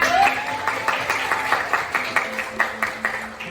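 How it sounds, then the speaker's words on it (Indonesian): Children in a classroom clap together for a classmate who led a cheer, giving a series of fairly regular, rhythmic group claps at moderate loudness with a faint voice audible at the start. "Kita beri tepuk tangan"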